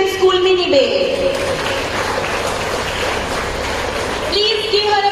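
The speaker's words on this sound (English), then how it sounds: "Please give her a very big round of applause." An audience claps steadily at a school painting competition prize ceremony in the Andaman and Nicobar Islands, dense even applause filling the middle, with an announcer's voice over the start and end.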